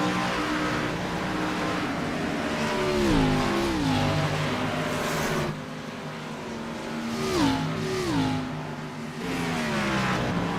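Race car engines in iRacing at Darlington roar past in waves, their pitch climbing and dropping through gear changes as several cars pass close, loud and sustained with no talk.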